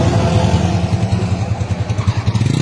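A motorcycle engine with a new exhaust idles close by, a low, throbbing, steady pulse with a slight mechanical clatter running through it.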